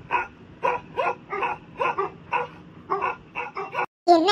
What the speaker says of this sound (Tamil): என்ன இந்த நாய் கண்டினியூஸா குலைச்சிக்கிட்டு இருக்கு?